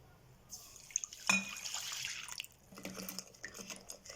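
A cup of milk poured into a kneading bowl holding yeast and sugar: a short splashing pour of about a second, close and soft, followed by faint liquid settling and small handling noises.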